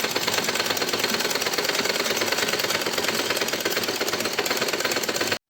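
A sewing machine stitches blouse lining fabric in a fast, steady mechanical chatter, loud and close, running continuously for about five seconds before stopping abruptly.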